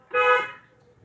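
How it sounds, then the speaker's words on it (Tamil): A car horn sounds once during an on-street driving lesson, a single short, loud honk that fades quickly into quiet traffic background. "நம்ம லெஃப்ட் பக்கமாக ஹார்ன் அடிங்க"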